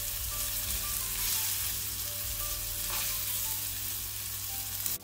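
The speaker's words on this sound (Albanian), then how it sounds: "Vazhdojmë i fërgojmë në të dyja anët qoftet për 4 deri në 5 minuta." Meatballs fry in a pan with a steady, close, continuous sizzle and crackle throughout, sometimes stirred, with no talking.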